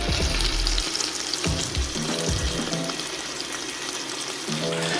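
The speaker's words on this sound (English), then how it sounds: "we're gonna sear this on both sides really good so it gets that nice like chocolate brown color on it" Lamb searing in a hot pan for birria tacos: a steady, loud sizzle with bubbling fat and a few clinks or stirs, no talking.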